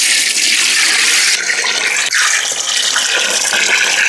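Water is poured into a cooking pot of goat trotters and spices for Vellore-style paya, a loud, steady rushing splash that continues without a break.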